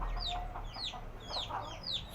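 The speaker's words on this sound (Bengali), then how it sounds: "এখন দেশি মুরগি পালন করার চেষ্টা করছি ডিমের জন্য" Desi chickens kept for eggs on a small farm cluck repeatedly in a steady series of short calls, moderately close, over a constant low background hum.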